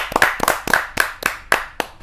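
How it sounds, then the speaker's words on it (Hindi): Audience at a Hindi kavi sammelan clapping to welcome poet Sushma Garg, a handful of sharp, evenly spaced claps in a steady rhythm, close and clear. "जोरदार ताली के साथ"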